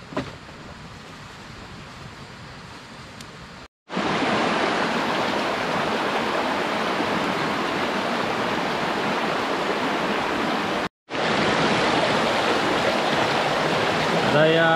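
A mountain stream, muddy and swollen after a night of heavy rain, rushes and gurgles in a loud, steady wash close by, broken by two brief cuts.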